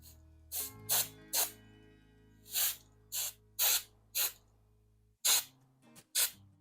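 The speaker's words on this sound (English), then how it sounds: "give it another spray with the cleaner" A series of short, sharp aerosol cleaner spray bursts on a model locomotive, about ten in irregular rhythm, close and crisp, with a faint low hum underneath.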